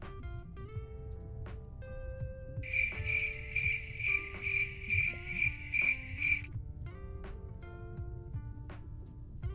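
In a calm fishing video game, a cricket gives a loud run of rapid trilling chirps over soft melodic background music, then falls quiet.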